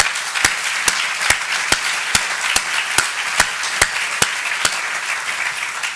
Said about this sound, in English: they, too, deserve a round of applause